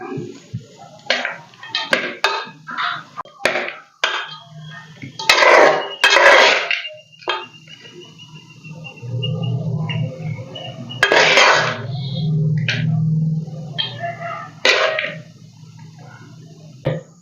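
Lemon rice is stirred and tossed with tempering in a pan, producing close, loud clanks and scrapes of a spoon against the metal in irregular bursts, with quieter stretches between.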